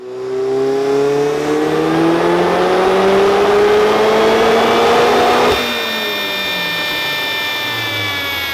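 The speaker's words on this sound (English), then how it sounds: "let's see what old Red does on a proper 20 psi pull" A turbocharged Mazda Miata engine on a 20 psi pull: loud, rising engine roar with climbing harmonics and turbo whine as it accelerates through the revs, then a sudden drop in pitch as it shifts or lifts off.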